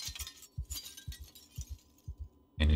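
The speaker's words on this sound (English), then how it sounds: "Remove this broken glass." Broken glass being cleared in Project Zomboid, a series of soft rhythmic thuds and light glassy clinks repeating evenly, followed by a louder crunching clatter at the end.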